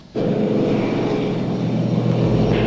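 A steady, loud propeller airplane engine drone fills the cabin in flight, starting abruptly and holding a constant hum throughout.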